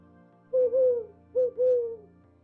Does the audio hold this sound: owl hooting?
yes